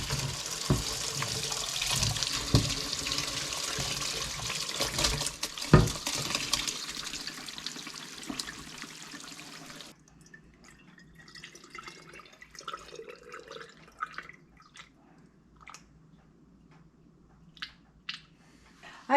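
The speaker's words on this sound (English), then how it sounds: "That's how I do when I'm canning, is I ladle it into this." Rendered liquid being ladled into a container for canning, heard as close pouring and splashing, then quieter drips, clinks and small wet sounds.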